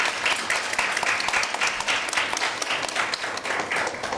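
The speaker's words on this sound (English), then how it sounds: "Please give a round of applause." A panel audience at a talk on reproductive freedom and state power applauds a professor as she is introduced. Steady, moderately loud clapping from many hands runs for about four seconds, with no speech over it.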